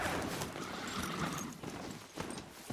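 Horse hooves clip-clop steadily in the Horizon Zero Dawn video game, a continuous rhythmic trotting heard close against a dense background of game ambience.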